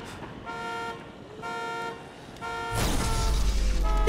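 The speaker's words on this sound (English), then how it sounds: "Honk honk!" Car horn in the zombie game Dying Light honks three times in even bursts, clear tonal blasts, followed by a rising rush of engine and impact noise.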